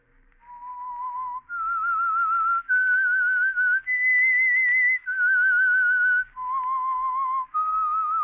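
A clear, solo whistled melody, a slow tune of sustained notes stepping up and down, with brief pauses between phrases.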